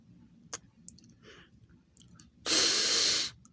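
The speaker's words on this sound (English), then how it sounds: "I take a deep breath." A single deep, loud breath drawn in over nearly a second, preceded by a few faint clicks and a soft snort in an otherwise quiet room.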